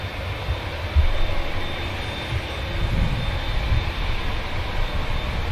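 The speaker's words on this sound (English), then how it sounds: "France just giving the engines a bit of a quick spool up as it continues taxi onto Victor" Aircraft engines give a quick spool-up as a plane taxis at Manchester Airport, a loud, broad roar that swells near the start and again mid-way over a steady rumbling background, with no talk.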